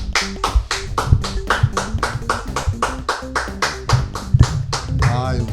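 A single person claps his hands in a steady, rhythmic run of sharp, close claps, about four per second. Voices are faintly audible underneath.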